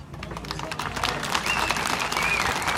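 A crowd applauds during a Spanish-language address, with dense clapping that swells slightly and holds steady for a few seconds, fairly loud and without talk.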